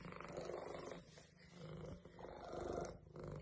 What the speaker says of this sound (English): Can you imagine a kitty that sounds like that?